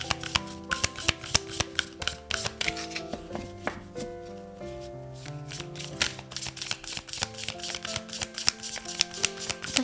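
Oracle cards being shuffled for a tarot reading, with close, crisp riffling and tapping in irregular bursts over a soft background of steady music, no talk.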